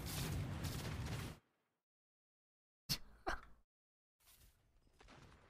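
The D.Va bomb goes off in Overwatch as a pair of sharp, booming game blasts close together, set between a burst of noisy game action and near silence, then fading into quieter rumble.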